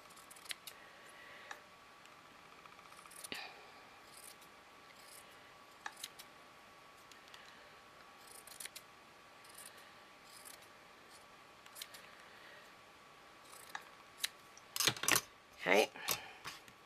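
Scissors trim material for a homemade top hat, giving faint, sporadic snips over a quiet room, followed near the end by a few louder, closer cuts and rustles.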